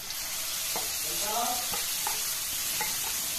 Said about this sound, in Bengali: এবারে এতে ওই 1/2 টিস্পুন মতো কালো জিরে ফোড়ন দেবো, আর ওই শিম বাটা যেটা বেটে রেখেছিলাম সেই বাটাটা দিয়ে দেবো।